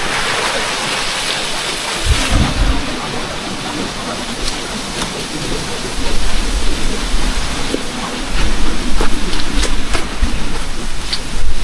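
A mountain river runs steadily, a continuous broadband rush of flowing water that holds fairly even throughout and swells a little louder in the second half, heard alone with no voices.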